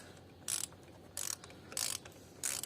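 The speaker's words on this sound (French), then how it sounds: "dévisser la bougie dans le sens inverse des aiguilles d'une montre" A spark plug wrench ratchets while unscrewing a car spark plug, making four short, crisp clicking bursts spaced evenly apart, close and quiet against a still background.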